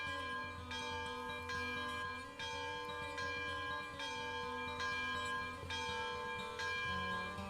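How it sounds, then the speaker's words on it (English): Steam locomotive bell in Railroads Online ringing steadily, a loud, close, metallic clang repeating at an even pace of roughly one strike every second and a half, alone with no talk. "The bell will go off."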